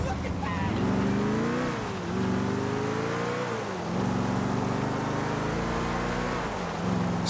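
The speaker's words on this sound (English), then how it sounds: "Okay, I've taken this beautiful car." A car driven in GTA 4: a loud, close engine drone that climbs and drops in pitch as it revs and shifts, with a voice talking over it.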